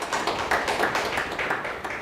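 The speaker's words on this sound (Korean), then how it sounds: "하나님께 영광의 박수를." An Easter Sunday church congregation applauds together, a dense, steady burst of clapping with a faintly rhythmic pulse, fairly close and loud throughout.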